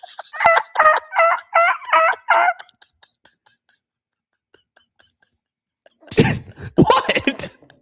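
A voice imitates a turkey mating call with a rapid series of five or six rhythmic gobbling yelps, followed by a pause and then people talking and laughing nearby.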